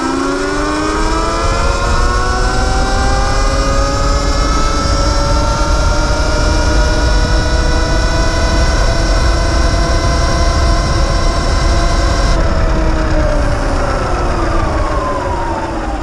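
A Sur Ron Light Bee electric bike rides at speed, a loud continuous electric motor whine with rising and falling tonal harmonics over heavy wind rush, steady throughout with no talking.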